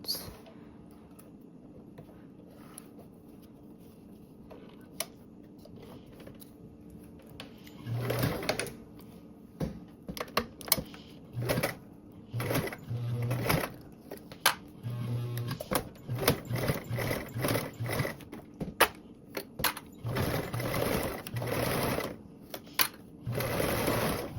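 Sewing machine running in repeated bursts of stitching, starting and stopping with short pauses, while top stitching a quarter-inch seam on a fabric bag; close and fairly loud, no talk.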